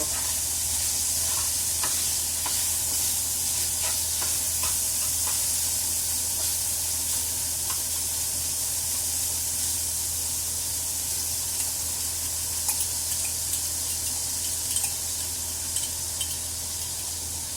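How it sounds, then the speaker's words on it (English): Onion and tomato paste sizzling in a pan while cooking Khow Suey with spiced pork, a steady close hiss with faint stirring clicks throughout, no talking. "onion and tomato paste goes in. Let it cook."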